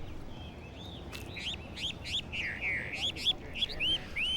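A hwamei, the Chinese songbird known as 'beautiful eyebrow,' sings in a New York garden, giving a run of clear, varied whistled phrases and slurred notes, moderately close, over a faint steady background hum.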